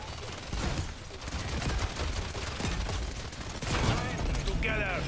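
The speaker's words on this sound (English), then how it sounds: "That's a turret." Rapid automatic turret fire from the video game Paladins rattles on in dense, continuous bursts, loud and busy, with other game effects layered in and a voice briefly heard near the end.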